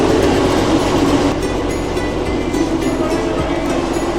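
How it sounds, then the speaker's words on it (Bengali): A Darjeeling Himalayan Railway toy train at Kurseong hill station gives a steady, loud rumble of rolling wheels with faint clickety-clack, continuous throughout without any voices. "আমাদের ট্রেন এইমাত্র কার্শিয়াংয়ে এসে দাঁড়িয়ে, আর এই হচ্ছে কার্শিয়াংয়ের হিল স্টেশন।"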